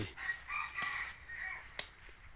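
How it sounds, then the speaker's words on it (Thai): A red junglefowl rooster crows outdoors in a rural garden, a short strained call rising and falling over about two seconds with a sharp click near the end, moderately close against soft background noise. "นี่ครับไก่ป่า"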